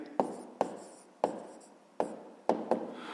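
A pen moves on paper, working out a math answer, giving a series of soft tapping strokes and faint scratching at an uneven rhythm, quiet and close, with no talking.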